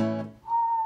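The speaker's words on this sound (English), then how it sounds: "I'm going to try and whistle." A person whistles a single sustained clear note, short and close, following a brief moment of voice at the start.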